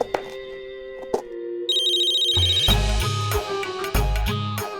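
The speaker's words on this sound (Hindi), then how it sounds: "सनिता इतना टाइम क्यों लगा फोन उठाने में?" A telephone rings in a melodic ringtone, repeated tones sounding clearly and loudly in a domestic scene, with a music-like sting under the later rings.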